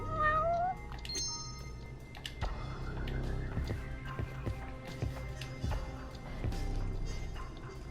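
A domestic cat meows indoors, several rising and falling calls near the start followed by softer intermittent mews, with light household knocks and footsteps in the background.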